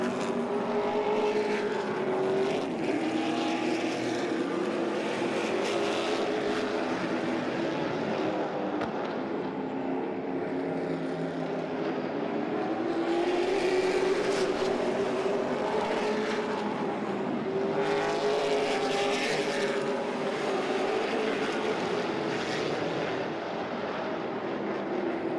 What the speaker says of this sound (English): Brandon Barker in the 88 heading out now.